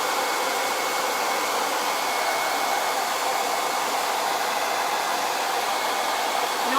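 A quick-dry heat tool blows a steady, loud, even whoosh with a faint whine, running continuously up close as it dries white chalk paste on a leaf cutout craft project.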